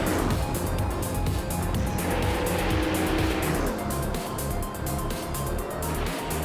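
Race cars in an AI car racing video game roar continuously on a track, engine whine shifting in pitch with some tire squeal, dense and loud throughout with no break.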